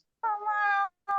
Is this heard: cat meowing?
yes